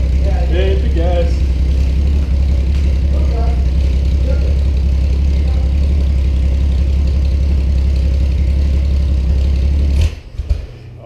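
A Fairmont drift car's engine drones loudly with a steady, heavy low rumble close by and rises under excited voices before cutting off abruptly near the end.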